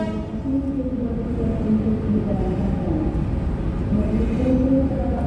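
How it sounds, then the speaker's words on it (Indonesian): A rescue train (kereta penolong) rolling through a railway station in Indonesia: a steady low rumble and grinding of wheels on track with faint tonal squeal, close and continuous. "Oh, kereta penolong ini."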